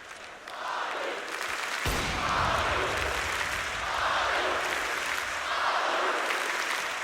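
A large arena crowd roars and cheers during a CS:GO grand final between SK and Astralis at Royal Arena, a dense sustained wall of applause and shouting swelling in waves, with a caster's voice faintly underneath.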